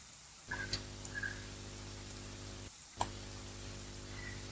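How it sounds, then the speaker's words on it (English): Steady rain falls in Genshin Impact, a continuous broadband hiss like a dense downpour on a surface, with a brief sharp patter near the start and a gap of quiet before the rain resumes. No one talks. "Rain."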